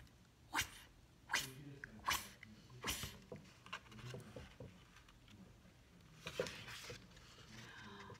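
A voice imitates a rotating lawn sprinkler with a series of sharp, breathy bursts repeating in a rough rhythm, close and moderately loud, followed by a longer hissing spray.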